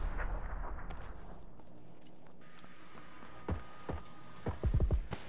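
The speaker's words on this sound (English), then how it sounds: "somebody just threw a nade by me" Grenade blasts in PUBG: several low, booming detonations land near the end, with a rumbling burst up front, over a quiet battlefield bed with no talk.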